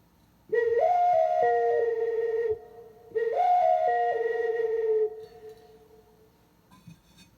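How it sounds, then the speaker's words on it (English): A two-mouthpiece double flute plays two short phrases of paired sustained tones that step up and back down, close and clear, each phrase ending before a quiet pause, with no talk. "and then I have a double flute"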